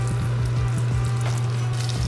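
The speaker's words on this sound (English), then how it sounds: "You hear the sizzling of that chicken" Chicken pieces frying in a pan of oil, a steady close sizzle with small crackles and pops throughout.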